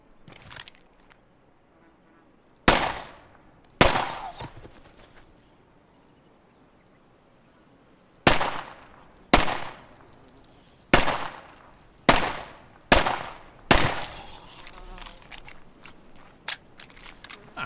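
Sharp, isolated gunshots from the video game State of Decay 2 ring out one at a time with echoing tails, spaced irregularly, several in quick succession near the end.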